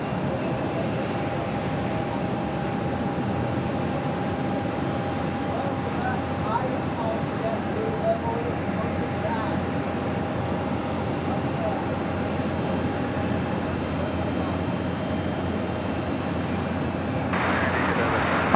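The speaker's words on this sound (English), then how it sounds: "who is excited for the Lufthansa A380, number 3 for arrival on 4 right?" A Lufthansa Airbus A380 arriving on runway 4 right at JFK, inbound from Munich: a steady, loud broadband jet roar with a faint tone running through it, holding level throughout and swelling slightly at the end.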